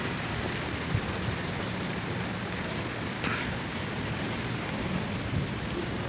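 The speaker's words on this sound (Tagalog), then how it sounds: "Maulan talaga mga idol, lumalakas yung ulan mga idol." A steady wash of heavy typhoon rain falls near tall city buildings, a constant even hiss with scattered drops spattering on surfaces, no voices.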